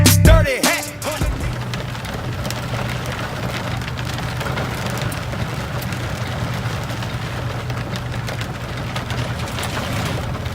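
Hail pelts a vehicle pulled over on I-80 in Wyoming, a dense, continuous drumming and clatter on the roof and windshield, loud and close, after a brief bump at the start.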